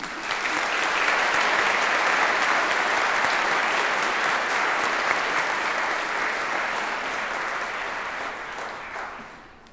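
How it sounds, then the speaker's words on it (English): A sustained, full round of audience applause for two presenters holds steady and loud for several seconds, then tapers off near the end. "Can we have a huge round of applause for our two presenters, please?"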